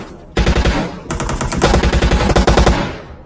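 Automatic gunfire in PUBG Mobile as a player shoots at bots: a rapid, loud burst of shots in close succession, starting abruptly and continuing to the end with a brief break.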